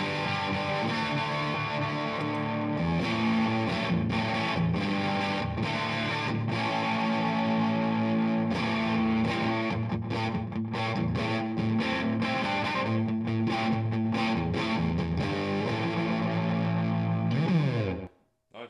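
Electric guitar with humbucker pickups through a bright twang pedal, a Gibson 335, playing a dense, driven, distorted riff continuously for about eighteen seconds before cutting off sharply.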